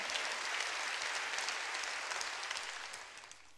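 A church congregation applauds during a Korean sermon, a dense, steady wash of clapping that slowly fades over a few seconds.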